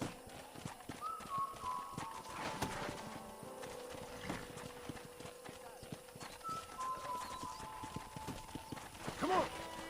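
Horse hooves clip-clop at a steady walking rhythm in the video game Red Dead Redemption, with occasional whinnies, under game dialogue and a player talking over the top.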